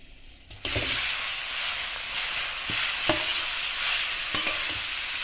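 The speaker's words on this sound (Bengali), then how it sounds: "এর মধ্যে আমি ছেঁচে নেওয়া আচারটা দিয়ে দিলাম।" Crushed elephant apple pickle hits hot mustard oil with garlic in a pan, bursting into a loud, close sizzle that settles into steady frying with a few clattering stirs.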